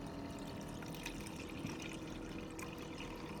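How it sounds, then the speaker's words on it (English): Kombucha tea poured out of a jar, a steady continuous liquid wash with a faint trickle running throughout at even level, no voices. "So anyways, I'm pouring this out."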